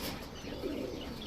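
Red khaki pigeons coo in a soft, low murmur, partly masked by steady background noise.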